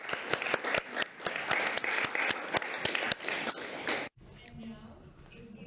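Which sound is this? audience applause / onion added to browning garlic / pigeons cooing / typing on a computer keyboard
audience applause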